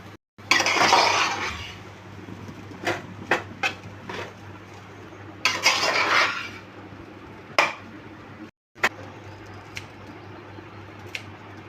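A knife cuts food on a board in a home kitchen: a few scraping swipes and scattered sharp taps and clinks, fairly close, with no talking.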